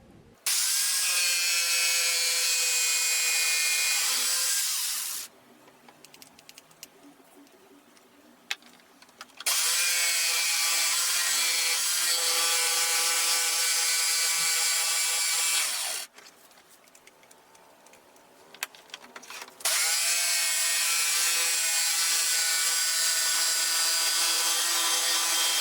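Jigsaw cutting acrylic sheet, a loud buzzing motor whine with a rapid blade chatter in three long runs, broken by two quieter pauses of several seconds, close and without speech.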